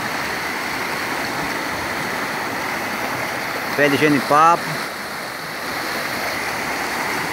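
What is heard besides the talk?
water flowing in a creek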